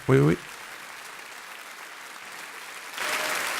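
A recorded crowd cheers and applauds, played back on a tech news show; a short spoken word comes first, then near silence, and the broad wash of cheering rises only in the final half second.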